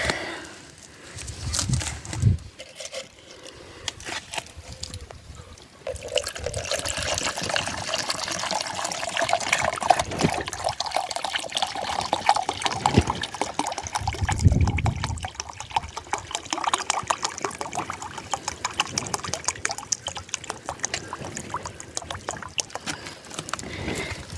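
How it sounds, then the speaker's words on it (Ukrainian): Liquid, a hydrogen peroxide solution, is poured from an IBC tote outdoors by strawberry beds, running as a steady splashing, trickling stream for most of the stretch after a brief quieter start. "І обережно, обережно виливаємо Єврокуб."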